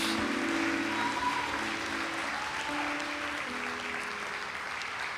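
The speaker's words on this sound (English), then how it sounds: "let's give those people and our God a round of applause" A church congregation gives a sustained round of applause, a dense, even wash of clapping with faint tonal music underneath, holding steady for the whole stretch without talk.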